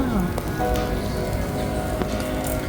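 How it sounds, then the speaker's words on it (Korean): Food sizzling on a grill at a restaurant outing near Daecheon Beach, with cheese served alongside. A steady, dense crackle runs throughout under background chatter and clatter. "지글지글"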